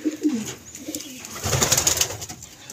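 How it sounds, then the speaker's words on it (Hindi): Pigeons coo in soft, throaty repeated calls close by, with some rustling and flutter in the background. "कबूतर जो है ना फुल मस्त रहते हैं, बोलते गुटकते रहते हैं"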